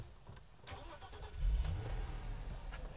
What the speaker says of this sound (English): No surprises in the Audi on the move